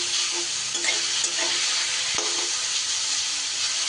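Radish greens stirred in a hot pan, cooked for a dish with ground matar dal. A loud, continuous sizzle and hiss fills the whole stretch, broken by scraping strokes and one sharp knock, with no voices.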